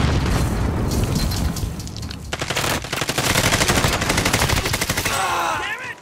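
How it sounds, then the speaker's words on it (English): In a shooter video game, a deep grenade blast booms and then gives way to sustained rapid automatic gunfire, loud and dense, with a sweeping sci-fi whine near the end. "Throwing grenade"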